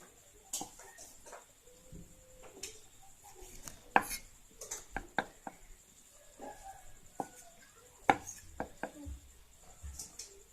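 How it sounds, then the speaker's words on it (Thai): A knife chops straw mushrooms on a board in sparse, irregular taps, light and close, with quiet pauses between cuts. "เราก็จะหั่นเห็ดเตรียมไว้ประมาณนี้นะคะ"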